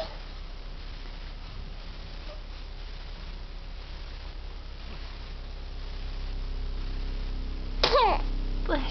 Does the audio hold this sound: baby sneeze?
yes